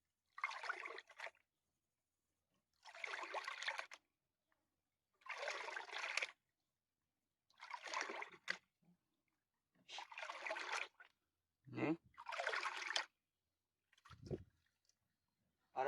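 A gold pan sifting sediment in water: seven or so evenly spaced, soft watery swishes and sloshes, each about a second long, separated by near silence, close and fairly quiet.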